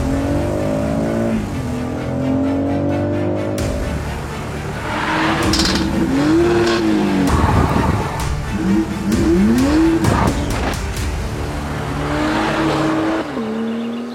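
A BMW X3 M drives and accelerates hard, its engine note rising and falling through repeated revs and gear changes, loud and close throughout.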